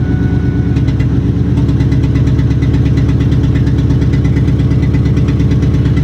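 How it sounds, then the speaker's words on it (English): A Mitsubishi Eclipse engine idles close by with an exhaust leak, a steady lumpy rumble with rapid regular ticking pulses running throughout, no talk over it. "The exhaust leak."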